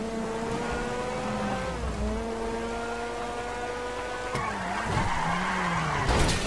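A revving car engine in GTA V Online drones steadily with shifting pitch, then roughs up with skidding and tire noise toward the end.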